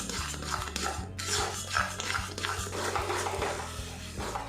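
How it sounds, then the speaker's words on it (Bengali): A spatula stirs a thickening milk and semolina mixture in a pan, giving repeated scraping and clinking strokes against the metal over a low background hum. "দুধের মিশ্রণটা কিন্তু এইভাবে আমি নাড়াতে থাকছি।"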